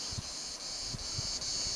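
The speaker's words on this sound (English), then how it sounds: "It's a cicada in this tree." Cicada singing in a tree in Crete in mid-May on a hot day, a loud continuous high-pitched buzz that pulses slightly, close by and steady over faint wind.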